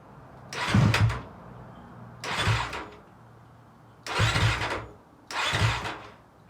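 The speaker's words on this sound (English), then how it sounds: "bump your starter a few times to purge the remaining oil out of the motor" A 2021 Honda CRF250R dirt bike's starter is bumped four times in short bursts, each a brief whirring crank of the motor with no firing, separated by pauses of near quiet.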